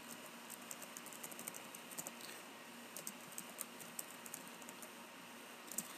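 Continuous typing on a computer keyboard while working on a Microsoft Word document, with quiet, close key clicks in an uneven rhythm and occasional louder keystrokes, with no talking.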